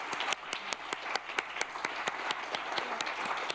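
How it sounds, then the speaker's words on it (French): An audience at a round-table event applauds the participants: steady, moderately loud clapping from a room full of people, with sharp individual claps standing out throughout. "Je pense qu'on peut les applaudir."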